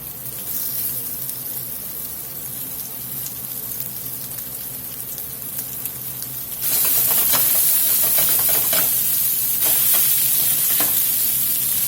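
A batch of meatballs fries in a pan with a steady sizzle that jumps suddenly louder and brighter partway through, with stirring and hissing steam continuing to the end.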